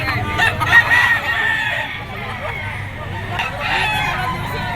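A yellow-legged Golden Boy Sweater bull stag rooster crows at a Lipa gamefowl auction market. One crow rises clearly near the start against a busy background of other birds clucking and an auctioneer talking.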